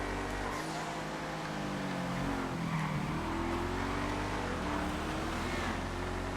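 Casino DLC cars racing in GTA FiveM, a steady engine drone with revving pitch rises and falls as the cars accelerate and shift gears, moderately close, with no talk.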